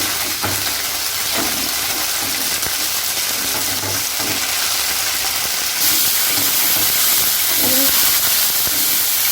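Mustard paste lightly frying in a pan gives a steady close hiss and sizzle, with a few soft stirring knocks and a brief gurgle near the end.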